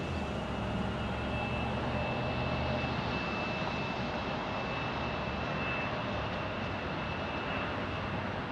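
A passenger airplane on a Baltimore flight at Phoenix Sky Harbor airport gives off a faint, distant, steady engine hum with a thin tonal whine, continuous and without talk.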